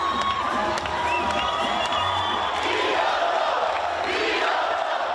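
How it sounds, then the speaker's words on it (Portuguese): Loud crowd cheering and whooping for a UFC fighter at an open training session in a packed shopping mall, a sustained roar of shouts and voices with no pause. "Foi aplaudido por uma torcida que é apaixonada por UFC."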